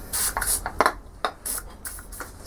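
An aerosol penetrant is sprayed onto a corroded steering part of a Suzuki motorcycle in several short hissing bursts, close by, with faint scraping and handling noises in between.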